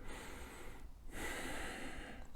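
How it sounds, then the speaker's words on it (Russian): A slow, deep breath drawn in through the nose and then let out, audible as a soft airy inhale, a short pause, then a longer exhale, close and quiet with no talking. "Делай глубокий вдох носом и выдох."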